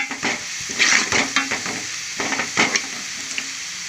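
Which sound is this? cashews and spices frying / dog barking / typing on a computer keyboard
cashews and spices frying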